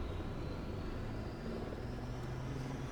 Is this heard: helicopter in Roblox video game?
yes